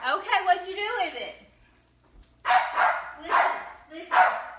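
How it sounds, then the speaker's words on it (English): Close, loud dog barking: a drawn-out whiny yowl first, then after a short pause three quick sharp barks in a steady rhythm. "Nobody wants to hear you bark."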